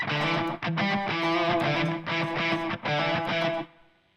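Electric guitar through a TONEX pedal set to room reverb, distorted chords strummed in short phrases with brief gaps, then a final chord decaying into a short reverberant tail.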